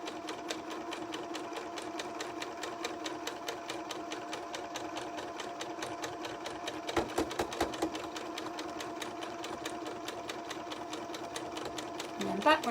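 A sewing machine stitches fabric for a Christmas tree hanging, giving a rapid, even chatter of stitches close by, with a brief louder burst partway through and a short pause near the end.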